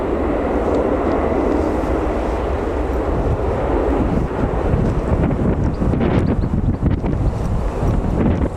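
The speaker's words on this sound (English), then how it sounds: "C-17's heading over the back." A Boeing C-17 military transport aircraft passes overhead with a loud, steady jet roar that swells and rumbles, mixed with gusty wind buffeting the microphone.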